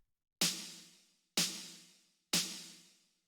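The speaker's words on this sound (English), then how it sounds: "After that, we have the snare, which is 2 layers, and it sounds like this." Bright two-layer snare drum sample with a long reverb tail, struck three times at an even pace, each hit sharp and decaying away, heard alone.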